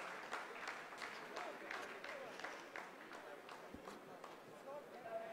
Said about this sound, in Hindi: आप इस तालियों के गड़गड़ाहट को सुन सकते हैं